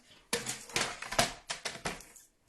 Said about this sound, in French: Attendez, je prends mon massicot.